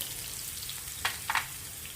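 Red and green chillies and asafoetida hit hot oil with a steady close sizzle, and a few brief crackling pops stand out midway.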